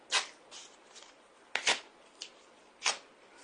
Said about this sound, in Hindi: ये मेरे निष्कासन का नोटिस जो मुझे दिया गया है, ठीक उसी तरह कैमरे के सामने फाड़ रहा हूं